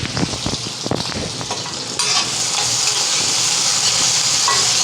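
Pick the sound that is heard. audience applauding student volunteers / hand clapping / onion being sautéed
onion being sautéed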